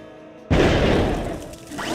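Cannons fire in the Star Wars Galactic Battlegrounds strategy game, with one loud, sudden boom followed by a rumbling decay and a second, softer report near the end.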